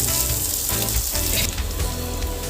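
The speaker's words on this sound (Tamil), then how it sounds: "வெங்காயம் நல்லா பாதி அளவுக்கு வதங்கி வந்துருச்சு" Onions sauté in a pan for spinach kadayal, giving a dense, steady sizzle and crackle up close, loud and without talk.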